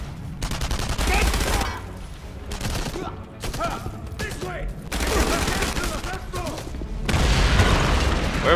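Bursts of rapid gunfire and booming blasts in the World War II shooter Enemy Front come in loud clusters separated by short lulls, with voices speaking in between.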